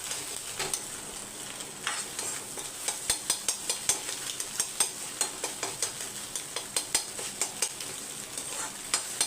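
Egg chopped into small bits and stirred in a hot pan while making a quick meal maker rice dish, giving a steady run of close, sharp utensil taps and scrapes over a soft, continuous sizzle.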